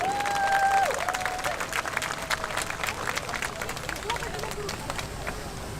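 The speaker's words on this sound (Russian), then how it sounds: "Дайте громкие аплодисменты," A crowd claps steadily for several seconds, with a tonal whistle or feedback sound near the start and a loud voice at the opening.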